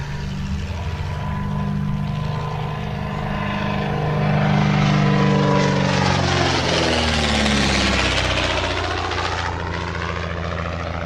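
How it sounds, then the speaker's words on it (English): A propeller aeroplane drones past, its engine note swelling as it nears and then shifting in pitch as it moves away. "It was once described to me as the world's only Art Deco aeroplane"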